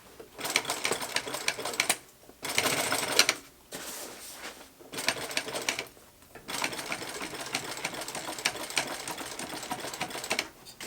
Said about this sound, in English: now I'm going to sew it in place